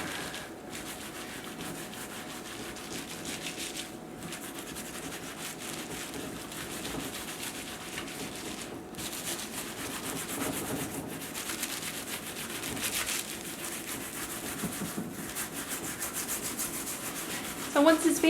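Wet felt is rubbed all over by hand in a steady, soft swishing friction that stays continuous and close, with faint brief pauses and no talking.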